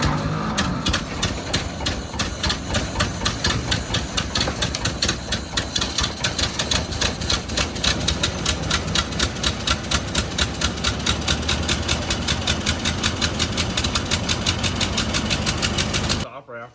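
The engine of John Dillinger's Ford Model A runs steadily and roughly, a dense rhythmic chug held for about sixteen seconds while underfueling, then cutting off near the end.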